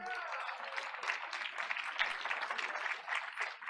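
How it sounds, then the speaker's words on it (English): A school board meeting audience applauds a sixth grader, quick, scattered claps from a crowd carrying on evenly at a moderate distance. "we're going to keep the applause going for Alan Roballo Rodriguez"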